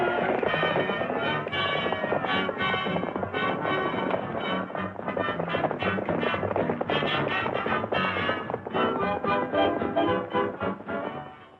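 A herd of horses arrives in a 1938 film, heard as a dense run of hoofbeats that clatter steadily and loudly throughout, fading slightly at the end.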